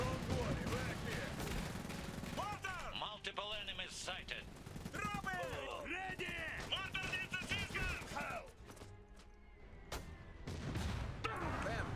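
Gunfire in the strategy game Iron Harvest, rapid clustered shots and booms in a busy battle mix, with voices and sweeping tonal effects layered over the shooting.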